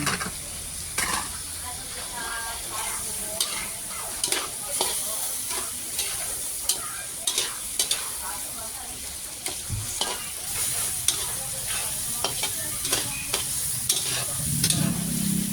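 Diced ham and chopped shrimp stir-fry in a hot pan for a Filipino sipo dish, a steady sizzle broken by frequent scraping clacks of the spatula and a louder hiss near the end, with faint voices in the background.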